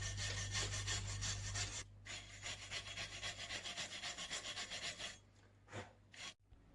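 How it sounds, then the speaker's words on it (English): A wire brush scrubs gunk off a weld in fast, rhythmic rasping strokes, loud and close, with a brief pause and a few final scrapes at the end. "So just hit it with the wire brush for a couple of minutes so we can have a good look at the weld that I've just done."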